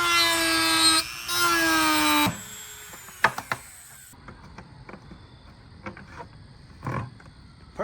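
A power tool cuts a fan hole in a DIY fog chiller, a loud high whine lasting about two seconds, followed by scattered knocks, taps and handling clatter nearby.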